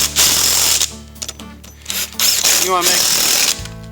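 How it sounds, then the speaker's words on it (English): Impact gun hammering on the wheel nuts of a 125cc Odes Rider ATV, loud close bursts of rattling with brief gaps, and a voice speaking in between. "with an impact gun, it pops them right out and you don't have to worry about that"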